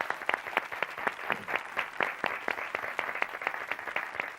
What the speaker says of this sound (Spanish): ofrecerles un aplauso porque lo han hecho muy bien